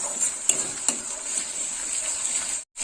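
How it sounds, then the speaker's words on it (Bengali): Ginger, garlic and green chilli paste frying in oil in a pan for egg masala curry, giving a steady close sizzle with a couple of sharp utensil taps near the start and a brief cut near the end. "মশলা ভাজা হয়ে গেছে"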